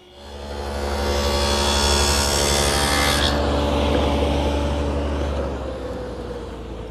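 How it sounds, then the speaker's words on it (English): A table saw with a tenoning jig riding in its miter slot cuts tenon cheeks on narrow wooden rails, a loud continuous whining roar with the blade biting through wood, easing off toward the end as the motor keeps spinning. "I use this tenoning jig, which rides in the miter slot of the saw"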